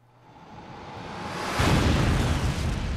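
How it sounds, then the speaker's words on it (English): A big explosion in the video game 428 Shibuya Scramble builds from a rising rumble into a loud, sustained roar that peaks midway and keeps booming to the end. "Out of nowhere, a huge explosion blew Achi clean off his feet."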